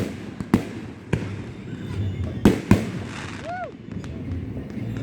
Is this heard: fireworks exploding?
yes